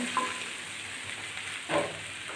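Whole green and ripe chillies sauté in a pan of lentil dumpling curry, a faint steady sizzle with a couple of brief stirring scrapes.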